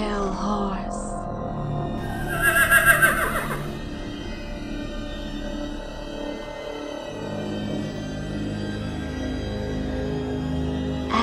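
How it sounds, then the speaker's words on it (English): A horse whinnies loudly near the start, a short rising neigh over a dense, dramatic music bed that continues steadily throughout. "And I looked, and behold, a pale horse."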